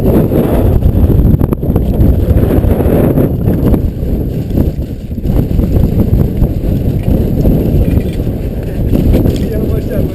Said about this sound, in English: See how much that wind's blowing?